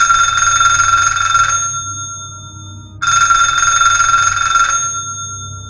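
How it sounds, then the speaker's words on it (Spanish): A house telephone rings in two long electronic bursts with a pause between, loud and close, with a steady bell-like tone and no voices. "al sonar el teléfono de la casa"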